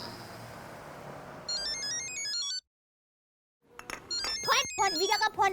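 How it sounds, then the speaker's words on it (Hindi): A phone ringtone chimes in a steady repeating electronic pattern for about a second, cuts to silence, then voices talk over a TV-show room setting. "फोन वीरा का फोन आया।"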